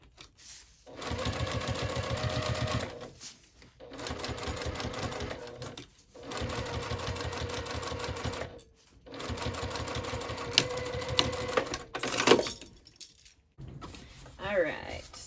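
A sewing machine runs close by, stitching a foam-lined seam on a handbag. It sews in three or four steady bursts with short pauses between them, and faint handling clicks come near the end.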